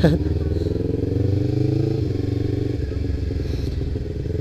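A Kawasaki Ninja 250 motorcycle exhaust drones up close, a loud, steady buzzing engine note with a quick blip at the start, then holding a constant rumble throughout.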